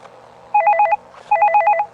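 A telephone in The Hole Keeper video game rings twice, each electronic trilling burst lasting about half a second with a short pause between, loud over faint background hum.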